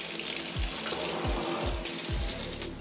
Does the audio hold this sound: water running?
yes